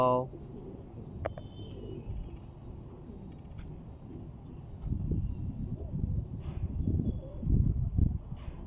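Pigeons coo softly over a steady background hum, with low rumbling murmurs growing louder toward the end and a few faint clicks.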